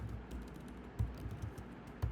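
Computer keyboard keys tapped at a desk, a few quiet clicks with two firmer strikes spaced about a second apart, no talking.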